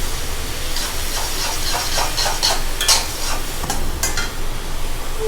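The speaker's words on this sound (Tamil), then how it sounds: "ஹை ஃப்ளேமில் மினிமம் 30 செகண்ட்ஸ் போல் சாட்டே பண்ணியிருக்கணும்." Vegetables sautéing in a pan over high flame, a loud steady sizzle and hiss with light stirring scrapes and clinks on top, close by and without speech.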